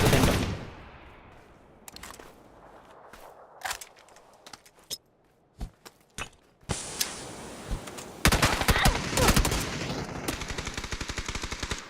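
Gunfire in a shooting video game, with bursts of rapid automatic fire and scattered single shots, loud and close, quieter in the middle and building into sustained fire toward the end.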